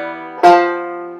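Banjo picking a Reno-style chordy walk-up lick: a short run of bright plucked notes ending on a ringing chord that decays, played alone up close.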